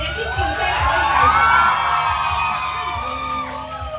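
Loud, sustained screaming and cheering from fans packed into a Hong Kong McDonald's for a celebrity burger-tasting party, a dense wall of overlapping shrieks and whoops that eases slightly toward the end.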